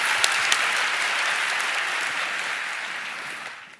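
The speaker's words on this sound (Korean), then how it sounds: "주님께 박수로 영광 올리겠습니다." A congregation at a pastors' church conference in South Korea claps together in a broad, steady wash of applause, with a couple of sharper claps early on, fading gently toward the end.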